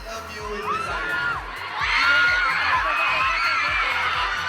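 A mall show crowd of fans at the Araw ng Dabaw festival in Davao cheers and shouts, with excited whoops and children's squeals swelling loudly midway over a steady thumping music beat.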